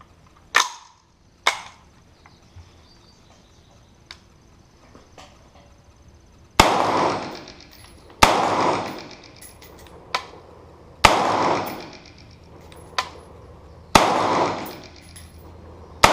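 PSA Freedom AR-15 rifle firing its first magazine on an outdoor range: single sharp cracks spaced a second or more apart, two early shots, then a slower run of louder reports, each with a short echo tail.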